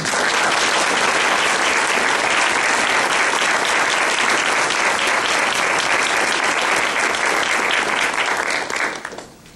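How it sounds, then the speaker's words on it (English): A dense, sustained round of audience applause fills a banquet hall at a county youth awards dinner, loud and steady throughout before tapering off at the very end. "let's give them a nice round of applause, please"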